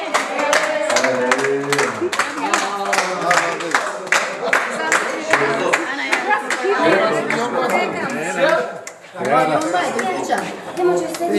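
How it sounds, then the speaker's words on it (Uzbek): A crowd claps loudly and steadily for about eleven seconds, with chatter and cheering mixed in and a brief dip near the end, at a gathering honoring teachers. "Videoga qo'yinglar, qarsaklar."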